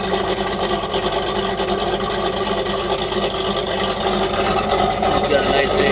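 A vehicle engine fitted with a big exhaust runs steadily, a continuous rumbling drone with fan noise layered on top, heard close and fairly loud without break.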